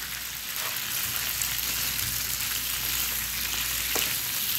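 Macaroni being stirred into masala in a pan for Indian-style veg macaroni, with a steady broadband sizzle of frying and soft scraping stir strokes throughout, close and continuous with no talking.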